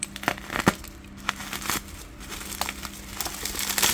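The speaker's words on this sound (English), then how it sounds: "Let's cut this open carefully." A package is cut open carefully with a blade, producing close crinkling and crackling of packing material broken by sharp little snaps and scrapes. The sounds come in irregular bursts with no talking.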